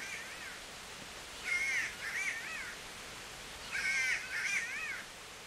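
A crow caws in the video game Kingdom Come Deliverance, two bursts of harsh repeated caws separated by a pause, moderately faint over a quiet background hiss.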